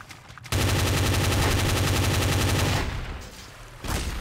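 Shotgun fire in the video game Garry's Mod, Trouble in Terrorist Town, a sudden loud burst of rapid gunfire that starts abruptly, rattles on for a couple of seconds, then breaks off, with a brief further shot afterward.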